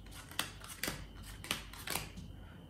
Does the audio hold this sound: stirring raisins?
no